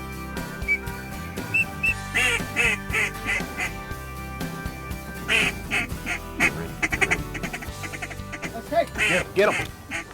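Ducks quack in scattered bursts during a Louisiana duck hunt, mixed with whistle-like calls and hunters' voices talking in between.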